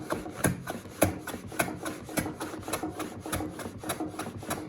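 A Veritas right-hand shooting plane shaves thin curls off a wooden edge in repeated rasping strokes, about two per second, close and steady with no talking.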